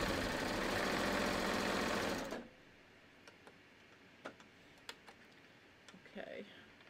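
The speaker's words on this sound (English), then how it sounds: "And I'm not stretching my neckline as I sew it." A sewing machine stitches a tee neckline in a loud, rapid, steady whirr for about two seconds, then stops, followed by faint clicks and handling sounds.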